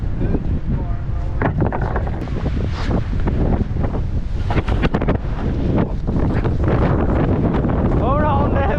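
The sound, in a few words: strong wind on a roof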